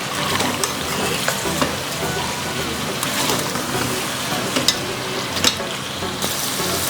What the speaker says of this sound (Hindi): टमाटर मैंने ऐड कर लिए हैं और इसको भी तेज़ आंच पे भून लेते हैं।